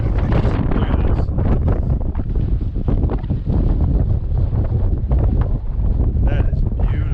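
Strong, gusty wind roars steadily across the microphone at a scenic overlook near Hoover Dam, a constant low buffeting with voices talking underneath.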